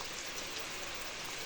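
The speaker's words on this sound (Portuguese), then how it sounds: "Mas como vocês viram aí, tá chovendo" Steady rain falls outside a country house, a dense, even hiss with no breaks and no voices.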